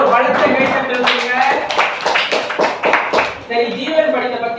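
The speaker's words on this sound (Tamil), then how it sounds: "அவங்களுக்கு ஜீவனுக்கு ஒரு பலத்த கைத்தட்டல் கொடுங்க" A classroom group gives loud applause for a student after a reading, with clustered clapping strokes forming a fairly loud, uneven patter and a little talk mixed in.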